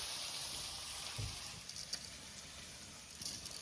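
Pieces of a country rooster sizzle and fry steadily in a pan, a continuous faint hiss with a soft clatter or two, and no voices.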